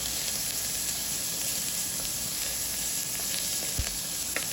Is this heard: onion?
yes